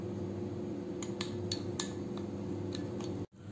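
Chicken marinade for a grilled whole chicken is stirred in a bowl with a spoon, making a series of light, irregular clinks and taps against the bowl over a low steady background hum, with no talking.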